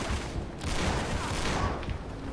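Pistol gunfire in the video game Uncharted 3 crackles in a quick burst of shots, fairly dense and moderately loud, alongside game ambience and a faint murmur of voice.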